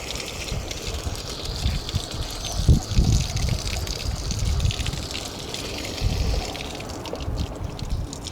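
Water gushing through a 1968 6 hp Evinrude outboard during a cooling system flush, a steady close splashing flow with a few louder surges.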